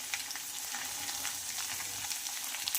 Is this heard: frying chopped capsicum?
yes